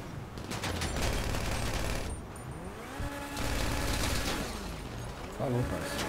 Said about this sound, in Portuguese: O cara que tá atirando não morreu.